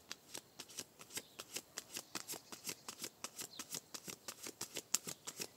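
Oracle cards are shuffled in a quick, steady rhythm of crisp riffling flicks that repeat for several seconds. The sound is soft, close and uninterrupted by talk.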